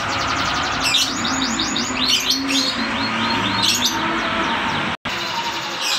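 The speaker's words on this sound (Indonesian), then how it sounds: "Ini burung sangat nyerek." A caged songbird sings loud, close bursts of rapid repeated chirps and trills in several phrases over a steady background hum.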